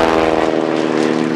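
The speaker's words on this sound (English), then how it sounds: "the aeroplane running in from the right now over the top of the college, which is a 1914 BE-2C replica" A 1914 BE-2C replica biplane passes overhead at an airshow, its propeller engine giving a loud, buzzing drone that stays strong throughout the brief pass.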